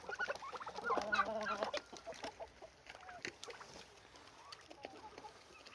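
Chickens, including a Marans hen, clucking softly nearby, with a short burst of cackling early on, then scattered low clucks over faint background rustling.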